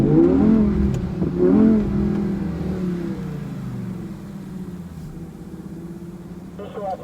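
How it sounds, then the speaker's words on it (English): An Audi on a track day being thrown into a drift, its engine revving hard under throttle and then easing off, close and loud, with a person talking over it. "Turn it in, crack the throttle."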